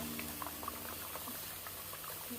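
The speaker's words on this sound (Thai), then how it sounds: "น้ำเดือดแล้วนะเราก็จะเทปลาใส่เลย" Steady bubbling and rolling of boiling water in a pot for a Northern Thai curry, with continuous small pops and gurgles, close and constant throughout.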